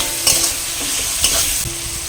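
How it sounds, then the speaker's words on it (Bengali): Chopped tomato with salt sizzles steadily in a pan while a spatula stirs it, with a few sharper scraping strokes over the constant close frying hiss and no talking. "দিয়ে এবার টমেটোটা ভেজে নেব"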